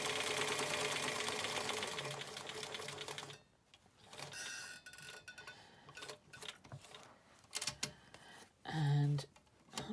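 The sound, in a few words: sewing up the other side of a face covering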